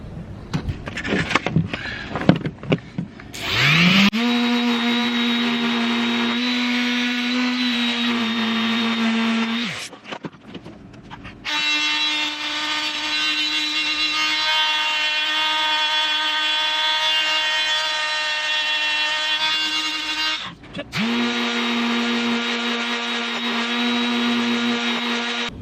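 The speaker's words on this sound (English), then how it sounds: "Glorious sanding." A power sander grinds steadily over faired filler along a sailboat's hull-to-deck joint in three long bursts, loud and close, with a strong steady motor whine and brief pauses between runs.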